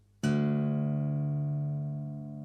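One low acoustic guitar string, tuned down to D, is plucked once and rings out clearly, sustaining for a couple of seconds as it slowly fades.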